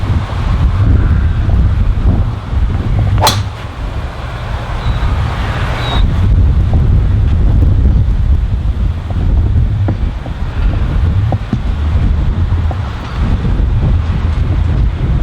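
Strong wind on a golf course buffets the microphone in a loud, continuous low roar with gusty swells and a couple of brief sharp knocks, no talking.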